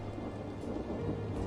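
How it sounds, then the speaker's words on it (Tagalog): Steady rain hisses with a low rumble of thunder underneath, a dense, fairly quiet wash of noise lasting about a second and a half, no voices. "umuulan na"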